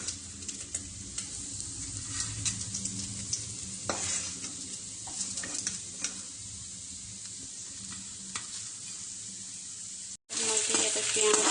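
Onion, bay leaves and dry chillies fry in a pan with a steady close sizzle and scraping stir strokes, fairly faint and continuous, ending in a brief louder burst of sizzling.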